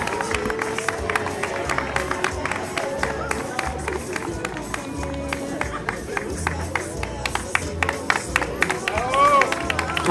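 Crowd applause and scattered clapping at a marathon medal ceremony, with a busy outdoor murmur of voices and movement running steadily underneath, and people talking throughout.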